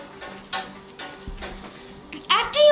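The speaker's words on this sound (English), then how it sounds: "Then mix it." Rice flour batter mixed with salt, turmeric and coriander powder in a pot, a few soft scraping stirs and knocks, then a louder burst of clattering near the end over quiet background hum.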